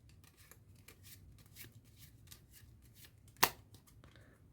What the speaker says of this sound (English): And again we do the shuffle. We do the shuffle two times like this.